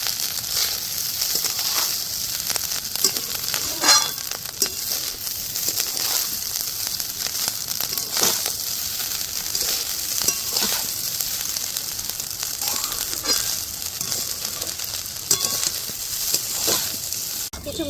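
Rice being stirred with sugar in a hot pan for Bengali basanti pulao, a continuous soft sizzle and hiss with repeated scraping and stirring strokes, close and steady.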